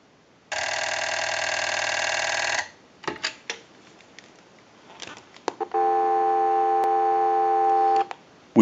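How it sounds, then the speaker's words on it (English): A steady electronic dial tone from a line analyzer on a TP6A military rotary desk telephone sounds for about two seconds, then clicks and handling noises, then the tone returns for another couple of seconds. "I'll let it go one more time and we'll give you some dial tone."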